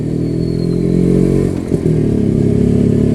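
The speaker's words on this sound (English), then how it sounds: "You just don't get sounds like this bike these days." A 1981 Yezdi Classic 250 two-stroke motorcycle engine runs loud and close, a steady buzzing idle with a brief dip and a small clatter before settling back.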